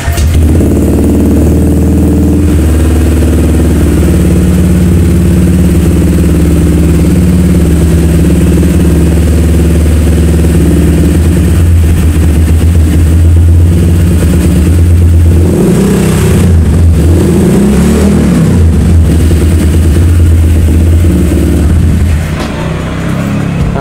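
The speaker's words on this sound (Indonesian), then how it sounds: "Jadi seperti itu cuy untuk suara knalpot panjangnya 30 cm cuy ya di model Samlong gini." Motorcycle engine running through a Samlong-style aftermarket exhaust silencer about 30 cm long, a loud, steady low-pitched drone with small revs and throttle swells partway through, heard close and alone without any talking.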